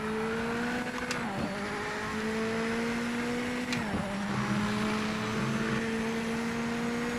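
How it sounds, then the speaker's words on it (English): Race car on a wet track in Project Motor Racing, a continuous close engine drone whose pitch dips at two gear shifts, with tyre hiss beneath. "Listen to those tyres."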